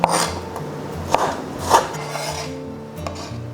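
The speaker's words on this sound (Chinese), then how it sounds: "最后准备一小块五花肉，我们先切片，然后再给它切条" A knife cuts a small piece of pork belly into slices and then strips, giving a few sparse, sharp cutting knocks with soft rasping between them, close and moderately quiet.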